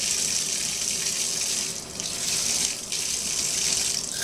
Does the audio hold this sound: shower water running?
yes